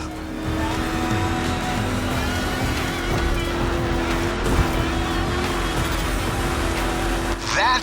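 A rally raid prepped Mustang GT in the video game The Crew Motorfest drones with a loud, steady engine note at a sustained pitch, with a brief rise in noise near the end.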